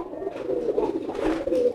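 Soft, close pigeon cooing, a few low warbling calls in quick succession.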